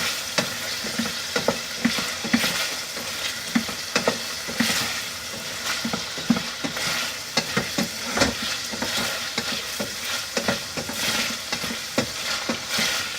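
Turkey escalope strips simmer in oil and poultry stock for a curry, giving a steady close sizzle broken by frequent scraping stirs and light utensil taps throughout.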